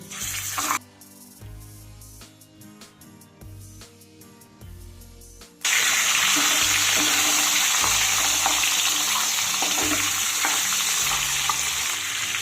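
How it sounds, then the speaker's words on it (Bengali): Fish heads sizzle loudly in hot mustard oil in a wok, a steady, dense frying hiss with stirring and clatter, starting after a brief quieter stretch and continuing close and strong. "মাছের মুড়ো কিন্তু সবসময় কড়া ভাজতে হবে"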